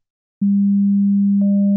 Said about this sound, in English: you watch it as it starts with just a sine, just one overtone, just the fundamental, and then shapes itself into becoming a triangle wave by adding in these odd-ordered harmonics